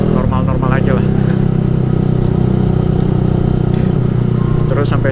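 A Yamaha R15 v3 motorcycle fitted with a Ronin Musashi exhaust runs steadily during a solo ride around Puncak, its loud continuous engine drone close by, with someone talking over it at the start and end.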